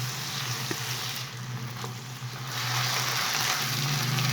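Chicken mixed with vinegar, soy sauce and chili sauce hisses steadily in a frying pan, a continuous soft sizzle close by with no voices.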